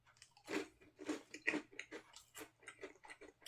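Crunchy French-toast-flavoured baguette snack is bitten and chewed close up, a run of sharp dry crunches in an uneven rhythm, quiet and alone.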